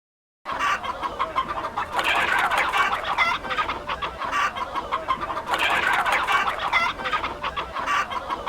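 Roosters fighting in a cockfight at an ancient Japanese market, with steady excited clucking and squawking from the birds close by over a constant crowd murmur.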